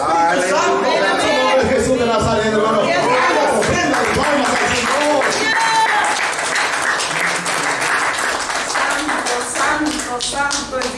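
A Spanish-speaking church congregation claps during worship, dense rhythmic hand clapping throughout with voices and chatter mixed in beneath.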